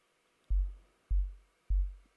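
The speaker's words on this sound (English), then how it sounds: "created a test oscillator, which sounds a bit like that. I've tuned it to 47, which is kind of where I heard the kick resonating" A test oscillator tuned to 47 Hz produces a deep sub-bass tone gated to a kick pattern: three short, evenly spaced low thumps, each with a quick attack and a fading tail, fairly soft and alone.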